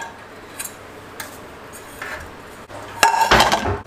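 Metal pots and utensils clank in a home kitchen as someone fetches a pot for heating water, with a few light clinks early on and then a louder burst of rattling and clattering near the end.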